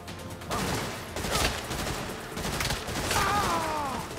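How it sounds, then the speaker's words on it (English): Semi-automatic assault rifle fire in Saints Row, a rapid run of loud, closely spaced shots in bursts over several seconds, heard alone without voices. "This assault rifle, even though it's semi-automatic, it is so overpowered"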